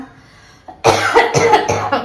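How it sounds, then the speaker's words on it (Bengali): A person at home coughs several times in quick succession, with close, harsh bursts following a brief quieter lead-in. "কাশি হয়েছে"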